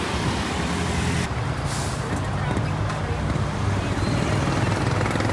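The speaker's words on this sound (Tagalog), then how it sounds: "Ang haba po ng traffic." Heavy, slow road traffic at the Alabang exit fills the air with a constant loud roar of trucks and engines, with a brief hissing air brake release and people talking over the din.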